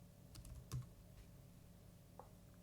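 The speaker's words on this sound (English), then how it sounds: "I'll click the search bar and type in pectic enzyme." Soft keystrokes on a computer keyboard as a search term is typed into a search bar, a short quiet burst of clicks followed by a couple of isolated taps, with no talking.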